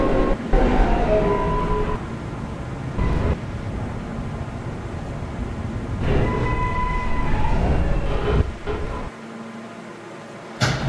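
Brooklyn-bound L subway train running in a video game, a steady low rumble with rattling and squealing tones rising and falling over about eleven seconds, ending in a quieter hum.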